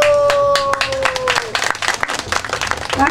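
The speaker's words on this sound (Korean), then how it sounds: "박수." A festival audience at an outdoor Incheon community event claps in lively bursts, with a brief sung or sustained voice tone over the start of the applause.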